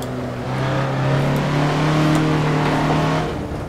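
A 1967 Russell Alexis Mk.14 Formula Ford racing in Assetto Corsa, its engine holding a loud, steady drone that swells and eases through a chicane, close and with no voices over it.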